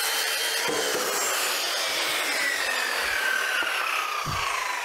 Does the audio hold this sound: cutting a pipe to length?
yes